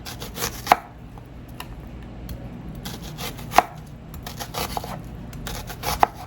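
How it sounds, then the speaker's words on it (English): A knife slices an onion into half moons on a cutting board, with a few sharp knocks against the board at irregular intervals between softer cuts and scrapes, close and clear. "we're just going to slice it into nice half moons"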